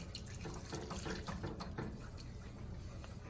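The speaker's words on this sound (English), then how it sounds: "then we're going to add our chicken broth in" Chicken broth pours into a pot of cream of cheese soup, a steady, close splashing and trickling of liquid that runs unbroken for a few seconds.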